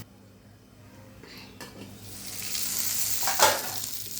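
Vegetables frying in oil in a pan, with a sizzle that starts faint and swells steadily louder, and a spoon knocking against the pan about two-thirds of the way through.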